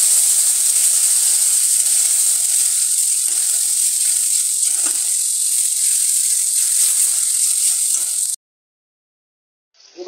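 Spices and Bengali bhola fish curry fry hard in a pan, giving a loud, continuous hiss and sizzle close up with faint stirring knocks, then cutting off suddenly near the end.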